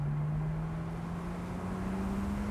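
Engine of a 2018 Porsche 911 Turbo S Cabriolet, a steady droning hum from inside the car that rises smoothly in pitch as it accelerates, with no clear gear change audible.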